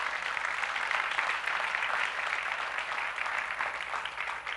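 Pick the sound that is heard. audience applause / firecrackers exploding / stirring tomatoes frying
audience applause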